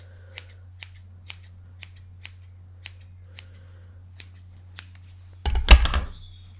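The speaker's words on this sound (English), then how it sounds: "if you have one just lying around that you don't use, just cut it off the top" Scissors snipping off the top of a parka coat hood, about ten crisp, evenly spaced close snips followed by a louder burst of rustling fabric.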